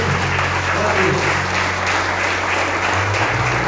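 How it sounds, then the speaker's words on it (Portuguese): A church congregation at a Brazilian victory service claps together in dense, sustained applause that fills the room evenly and loudly, with a faint murmur of voices underneath. "Vamos aplaudir ao Senhor"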